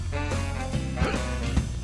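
Slinky Dog from the Toy Story 2 video game giving a short string of quick, bright yips and barks over steady game music.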